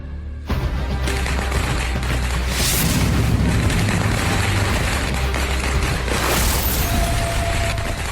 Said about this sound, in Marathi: फटाके वाजायला लागलेत मॅडम.